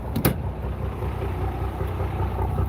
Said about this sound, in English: Nasty sounding exhaust.